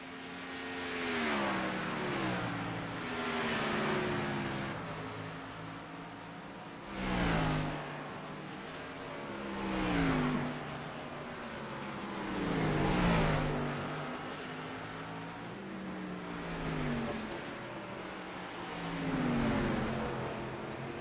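Race cars on a road course pass one after another every few seconds, each engine whine swelling and dropping in pitch as it goes by at moderate distance, with no talk.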